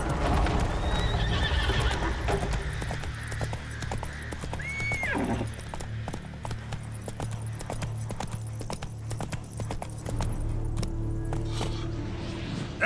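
Roach the horse galloping in The Witcher 3, steady rapid hoofbeats running throughout with a loud whinny partway through, set against a dense background din.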